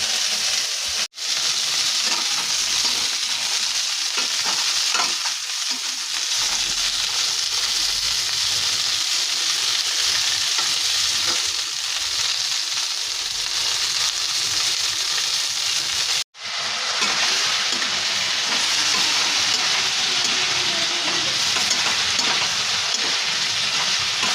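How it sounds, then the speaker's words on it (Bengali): Steady, loud sizzling and crackling of cauliflower frying in hot oil in a pan, continuous throughout with two brief dropouts, no voices. "আমি ফুলকপিটা ভাজছি ফুলকপি ভাজাটা বসিয়ে দিয়েছি"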